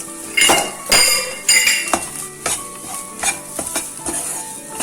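Vegetable samosa filling sautéed with garam masala and spices in a pan, with a spoon stirring and scraping against the metal in repeated clinks and knocks over a soft sizzle, close and fairly loud.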